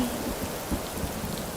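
Dense, steady rain hiss fills the air during a thunderstorm in the video game Rising World, wind-driven sideways rain washing evenly with no distinct thunder crack in this short stretch.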